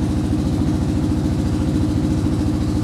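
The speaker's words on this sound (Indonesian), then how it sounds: "Ini suara knalpot dari Nobinya ya." A 2017 Yamaha R15 V3 motorcycle idles on a Nobi aftermarket exhaust, a steady, loud, close-up low rhythmic thump with even pulses throughout and no talking.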